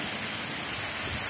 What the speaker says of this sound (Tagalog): Ayan umuulan guys, ang sarap